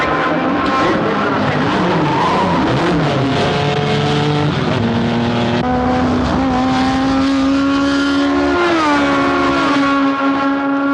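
A race car drives through a curve, its engine droning loud and close with a steady pitch that climbs and shifts gear, while a commentator talks over it.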